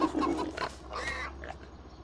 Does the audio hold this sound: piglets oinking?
yes